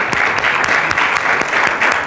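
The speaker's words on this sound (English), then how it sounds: "So let's give him a round of applause." An audience claps for a scholarship winner in a brief, steady burst of applause, a dense patter of many hands at full strength throughout.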